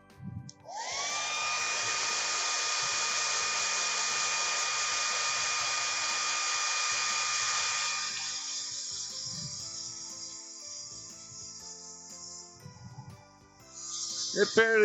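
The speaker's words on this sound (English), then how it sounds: "I'm gonna grab that blow dryer again real quick." A blow dryer dries a small woodturned holiday ornament, a steady loud whooshing hiss with a whining tone that runs about eight seconds, then fades and cuts off, followed by a faint clatter.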